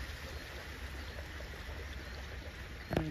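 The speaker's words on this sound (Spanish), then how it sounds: "este es el agua que baja de aquí del cerro" Water running down from a hill into a small ranch dam, a steady low rushing and trickling that continues evenly, with a brief sharp knock near the end.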